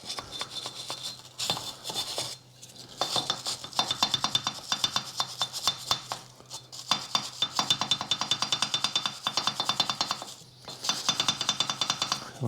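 Brush scrubbing corrosion off the rear brake drum of a 2016 Ford Focus 1.5 TDCi, rapid rhythmic metallic rasping strokes close by, pausing briefly between bursts, no talk.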